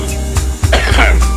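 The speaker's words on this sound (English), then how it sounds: "Had a cough there." A person gives a brief throat-clearing cough close to the microphone, over a low background hum.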